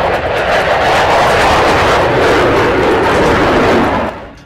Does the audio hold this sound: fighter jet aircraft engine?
yes